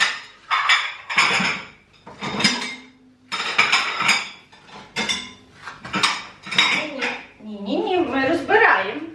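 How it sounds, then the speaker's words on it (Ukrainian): Dishes and knives clatter and clink as a dishwasher is unloaded at home, a run of close, bursty kitchenware knocks with brief pauses between handfuls, while someone talks over the clatter. "О, скільки посуду. Так, зразу забираємо ножі в автомат."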